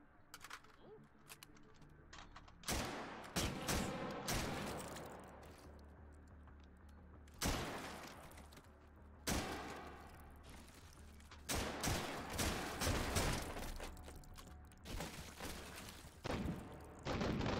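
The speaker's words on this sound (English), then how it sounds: "Doing a random mag dump on that revolver." A revolver is fired again and again in a video game, with sharp, loud gunshots arriving in scattered bursts and a few quieter gaps between them.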